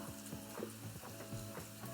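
Food sizzles and crackles in a pan, steady and fairly quiet, with soft scraping and tapping from stirring throughout.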